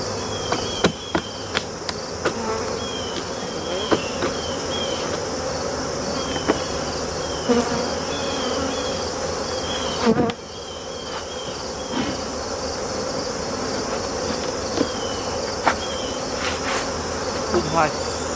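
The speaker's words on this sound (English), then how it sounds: "these summer bees will help raise really good generation of winter bees" Honeybees buzzing around an open hive during a brood box check before winter, a dense, steady hum close by, with sharp knocks and clicks from handling the equipment.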